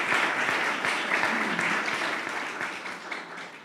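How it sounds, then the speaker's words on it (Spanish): An audience applauds at a university gathering: full, close clapping that holds strong, then gradually thins and fades toward the end. "para quien pido un aplauso"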